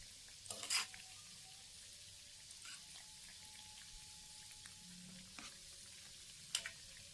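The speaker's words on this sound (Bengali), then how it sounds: "এগুলাকে আস্তে আস্তে করে হালকা আঁচে হতে দিতে হবে দিলে বেশ ভালোভাবে নিমকিগুলা হবে মানে ভাজা হবে" Atta nimki pastries fry slowly in oil over low heat, giving a faint, steady sizzle broken by a few sharp crackles and pops.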